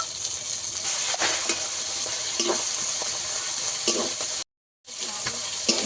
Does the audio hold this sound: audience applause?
no